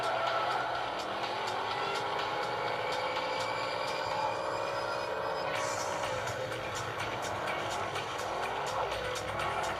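Racing car in an iPad mini driving game: a steady, whining engine drone with shifting pitch and faint squeals, played through a small speaker with a voice talking over it.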